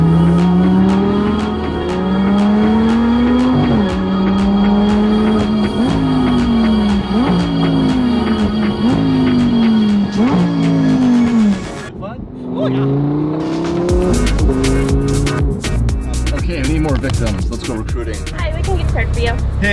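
Loud Lamborghini engine driving on winding roads, rising and falling through repeated gear pulls with a brief lift mid-way, then a rough, clattering run. Wind noise and talk sit around it.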